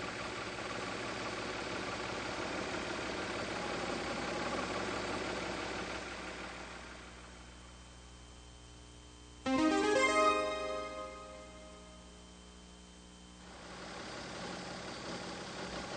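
A Mazda MX-3 engine idles steadily during an idle speed check, a low even hum that briefly swells with a revving rise before settling back to idle.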